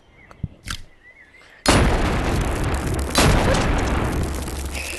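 Shotgun fire in a video game: a few faint clicks, then a sudden loud blast that opens into a sustained, roaring wash of noise, with a second burst partway through.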